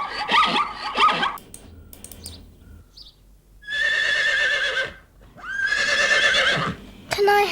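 Two loud horse whinnies ring out with rising and falling pitch, separated by a brief pause, with some rustling and a short voice-like sound at the start.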